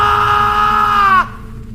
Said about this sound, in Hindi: राहुल की चीख गूंजी और फिर अचानक बंद हो गई